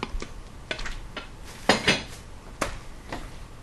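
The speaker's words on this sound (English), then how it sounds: "This is a covered 1-quart casserole dish in really great shape" Ceramic Crazy Quilt pattern covered 1-quart casserole dish handled with a few close, light clinks and knocks of the lid and dish, spaced irregularly, with a couple of brighter clatters near the middle.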